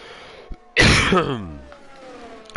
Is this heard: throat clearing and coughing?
yes